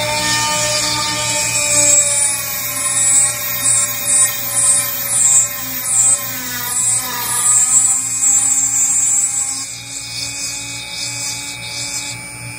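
A drill whirs and grinds through thick sea glass underwater in short pulsing bursts, with a watery gurgle and a constant background hum, then the grinding eases.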